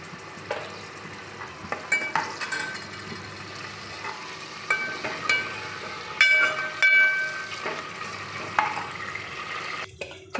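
Mustard seeds and cumin sizzle in hot oil for tempering a tomato chaar, a steady low crackle broken by sharp pops and occasional clinks of a stirring spoon close by.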